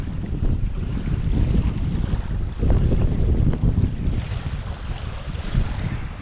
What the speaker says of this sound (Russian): Ну ветер, конечно, жесть